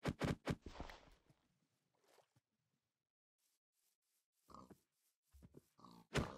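Pig grunts from Minecraft, several short bursts clustered at the start and again near the end, with quiet gaps and faint footstep-like rustles between them.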